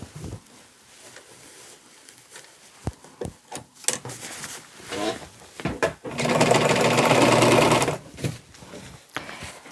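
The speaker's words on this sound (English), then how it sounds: "I'm going to start right here and sew down." A sewing machine stitches a dress in short intermittent bursts, then runs steadily for about two seconds before stopping, with cloth rustling and handling clicks between runs.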